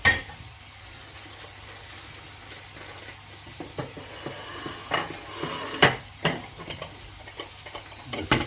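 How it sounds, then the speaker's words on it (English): Beef browns in a pot for a casserole, giving a soft steady sizzle under repeated clicks and knocks of utensils and pans, with several sharper clatters spaced through the quiet kitchen. "Whilst the beef is browning in there"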